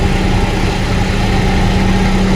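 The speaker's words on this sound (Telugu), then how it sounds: "అన్నీ ఈరోజు 4 ట్రాక్టర్లు తోలుతున్నాం ఫ్రెండ్స్" A tractor engine runs steadily at idle, one of four tractors working in the fields, with a loud, close, even low rumble and constant vibration and no voices.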